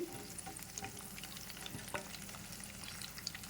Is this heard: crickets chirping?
no